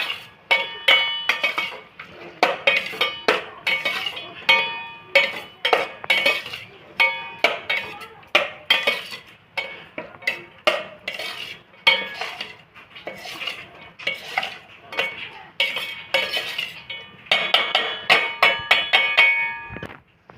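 A metal spoon scrapes and clinks repeatedly against a pot while stirring sabudana khichdi, a steady run of sharp close taps and scrapes over about twenty seconds.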